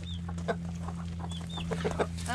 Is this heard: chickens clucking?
yes